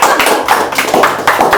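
Audience clapping in a rapid, steady rhythm of sharp hand claps, loud and close.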